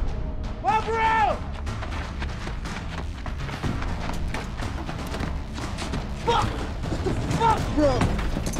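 Gunfire erupts in a tense shootout at a petrol station in a war-zone action film: a few sharp, heavy shots and thumps cut through loud, panicked shouting and frantic voices.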